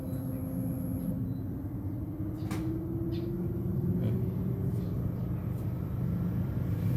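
A Daikin R32 inverter air conditioner compressor runs as a steady low hum with a faint tone slowly rising in pitch. The unit has a fault in which its outdoor condensing unit cuts out after about five minutes of running.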